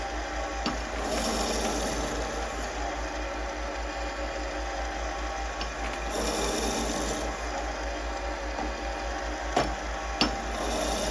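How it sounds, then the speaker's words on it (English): A steady mechanical whine and grinding hum as a lathe drills into a pen barrel, the bit fed by hand through the tailstock, continuous at moderate level with a few sharp ticks near the end. "I'm using the hand power there with the tailstock pushing the drill bit forward"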